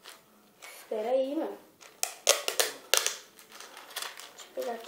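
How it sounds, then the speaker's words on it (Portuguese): Scissors cut near a pair of LED sneakers while adhesive tape is handled: a cluster of quick, crisp snips follows a brief voice, with another voice at the very end. "Deixa eu pegar aqui a tesoura. Espera aí. Cortar aqui."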